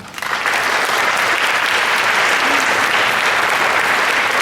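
Steady, dense applause from a large audience at a public political forum on power and war, rising quickly in the first half second and then holding loud and even throughout with no talk over it.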